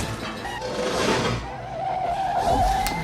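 Tires squeal as a car brakes hard and skids in a scene from the 1984 film The Terminator, a sustained screech lasting a couple of seconds over engine noise.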